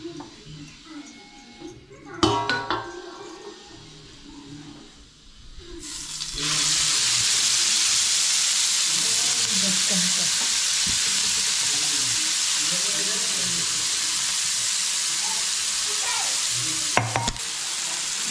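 Quiet kitchen clatter gives way to a loud, continuous sizzle as chili paste hits a hot griddle, hissing steadily with a couple of sharp utensil knocks.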